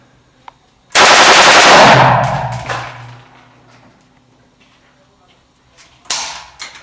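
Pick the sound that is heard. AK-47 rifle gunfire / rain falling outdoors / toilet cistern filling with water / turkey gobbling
AK-47 rifle gunfire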